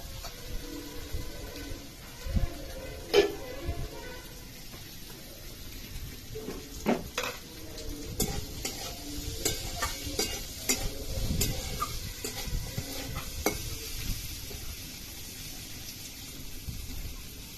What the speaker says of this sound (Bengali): এটা আমি খুব সুন্দর একটা ব্রাউন কালার মতো করে ভেজে নেব।